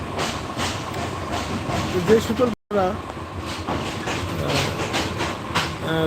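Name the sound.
Bijoy Express train running on rails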